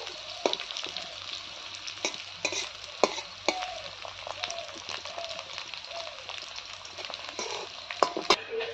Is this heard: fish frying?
yes